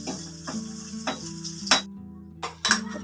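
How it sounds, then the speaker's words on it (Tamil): Chopped onions, garlic and curry leaves sauté in a pan, heard as a soft background sizzle broken by regular spatula clacks and scrapes about every half second, close by. "பொடியை நறுக்கின வெங்காயம், பூண்டு, கறிவேப்பிலை சேர்த்துக்கலாம். வெங்காயம் வதக்கிக்கலாம்."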